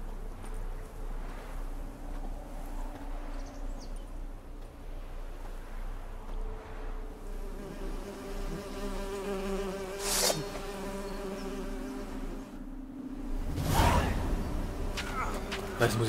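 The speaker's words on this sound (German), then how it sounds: "die Bienen summen" Bees buzz in a peaceful painted-world scene of the video game Witcher 3: Hearts of Stone, a steady droning hum beneath ambient game sounds, with a couple of sharper swells and someone talking.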